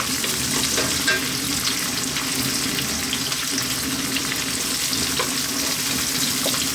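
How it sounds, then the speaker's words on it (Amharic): Onions and garlic fry in a pan, making a loud, dense, continuous sizzle that holds steady throughout, with no speech over it. "ሽንኩርታችንን እንጠብሳለን አብረን።"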